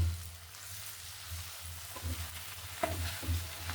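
Ginger garlic paste with curry leaves frying in a pan, a faint, soft sizzle with a few gentle stirring scrapes and knocks near the end; no talking.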